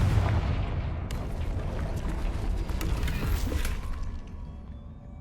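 Blasting spell explosion in Hogwarts Legacy, a heavy rumbling blast with crackling debris and clattering that sustains loudly before fading out toward the end.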